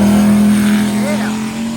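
Race week hot rod at the track at night, a loud sustained engine note with a rising rev midway, close and strong, while people talk nearby.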